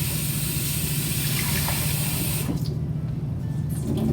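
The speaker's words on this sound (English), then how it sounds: "I can tell it's clean once the water starts running clear." A sink tap runs steadily while a sponge is rinsed and squeezed clean, close and loud, with the spray thinning slightly partway through and no voices.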